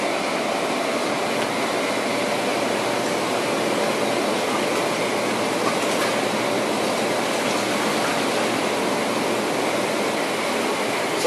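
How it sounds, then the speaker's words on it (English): Hot tub spa jets running during start-up, water circulating with a steady, dense rushing hiss that never changes, loud and close, with no voices over it. "We're going to turn on our jets and we're going to pour it over the filters nice and gradually."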